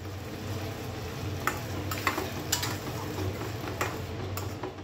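Curry masala with chilli and turmeric powder frying in a pan while being stirred, a steady close sizzle broken by several soft scraping and tapping strokes, with no talking.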